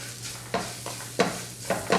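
Black pepper powder, turmeric and onion roasting in a pan, a soft sizzle punctuated by three or four sharp spatula scrapes against the metal, close and unaccompanied by speech.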